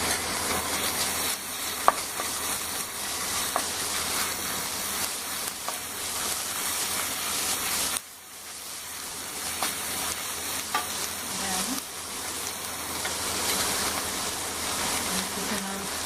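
Onion sauteing in a pan with garlic and ginger paste for pav bhaji, a steady soft sizzle and hiss with occasional stirring scrapes, quiet and continuous.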